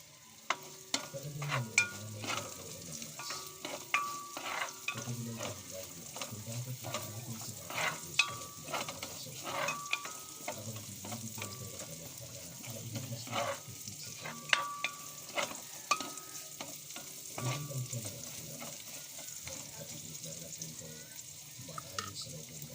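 Garlic and onion sizzle in a hot pan while being stirred, with repeated sharp scrapes and clinks of the utensil over a steady frying hiss; a voice speaks briefly now and then.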